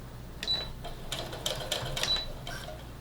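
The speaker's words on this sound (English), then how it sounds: "I'm going to pull out this needle. And I'm going to sew right off the edge." Domestic sewing machine stitching the edge of a fabric face mask, several short rattling bursts of needle action separated by brief pauses, close and moderately loud.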